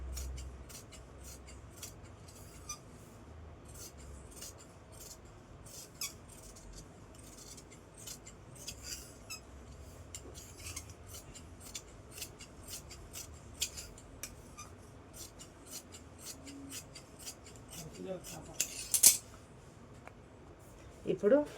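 Scissors cutting cloth for a Prince-cut blouse neck, a long run of crisp, regular snips close by, getting louder and busier toward the end, with someone talking at times.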